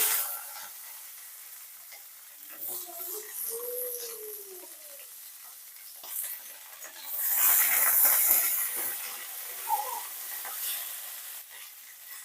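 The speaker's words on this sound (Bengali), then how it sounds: "তেলটা গরম হয়ে গেছে, তেলের মধ্যে আমি দিয়ে দিচ্ছি ডিম।" An egg fries in hot rice bran oil, a soft sizzle and hiss that swells and fades, with a brief louder burst of spitting near the middle.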